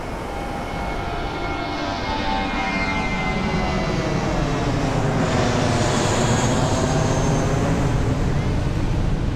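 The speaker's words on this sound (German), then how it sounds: "Und da oben kommt auch schon das Flugzeug." Airplane passing low overhead near a beach in Phuket, a broad continuous roar that swells and holds throughout, with a voice speaking under it.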